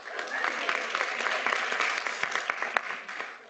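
Crowd applause at a university spirit fest, a busy patter of many hands clapping, swelling slightly midway with a few sharp individual claps, then thinning and tapering off toward the close.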